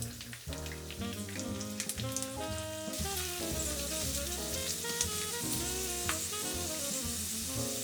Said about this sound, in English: Then add the onions and saute until they're soft and golden.